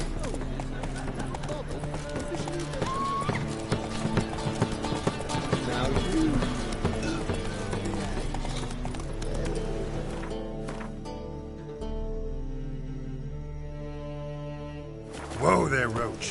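Hooves of the horse Roach clip-clop at a gallop in a PS4 video game, a steady drumming gait running under loud, continuous orchestral game music for most of the stretch.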